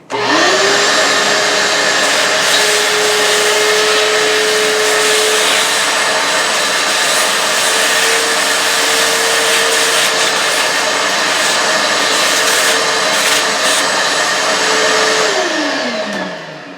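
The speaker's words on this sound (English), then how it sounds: "Suck out the debris." Shop vacuum clearing debris from a plunge router cut: a loud, steady whooshing suction roar with a constant whine starts abruptly, runs nearly unchanged for about fifteen seconds, then winds down as the motor pitch drops.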